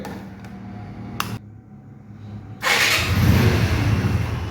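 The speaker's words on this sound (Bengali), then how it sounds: "এখন আপনাদেরকে ইঞ্জিনের সাউন্ড শোনাবো" A 2017 Apache RTR 150cc motorcycle engine catches after a few quiet seconds and runs with a loud, steady, rough rumble up close, no talking.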